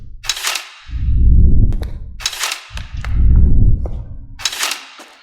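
A bow fires arrows rapidly in the VR game Blade and Sorcery, with three sharp, loud releases spaced about two seconds apart, each followed by a low rumbling thud.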